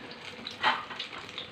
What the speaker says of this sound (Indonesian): Kita lanjut dengan goreng